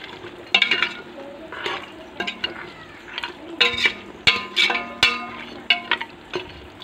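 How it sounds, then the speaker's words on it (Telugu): A spoon stirring mutton curry with eggplant in a pot, giving irregular metallic scrapes and clinks against the pot over a soft sizzle, close and fairly quiet. "ఈ విధంగా దగ్గరకు ఉడికిన తర్వాతకి మొత్తం కలిసేలా కలుపుకోవాలి."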